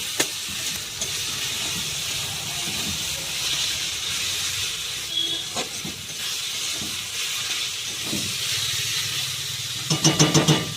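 Ginger, garlic and green chilli paste sizzles and hisses steadily in a hot pan while being fried for Bengali mutton kosha, with occasional stirring scrapes and a busier crackle near the end.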